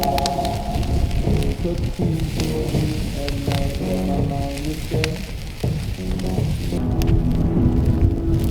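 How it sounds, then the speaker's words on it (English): Steady rain patters on a surface, a dense continuous wash of droplets with a faint tonal hum underneath. "It's raining! It's so beautiful!"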